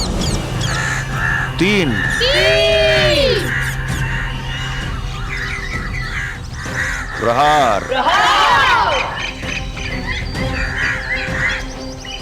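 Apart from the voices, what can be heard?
flock of birds crying out, crows cawing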